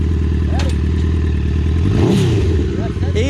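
A 1000cc buggy engine starting and running steadily, a loud close drone with rhythmic firing pulses that rises briefly in pitch partway through, while people talk over it.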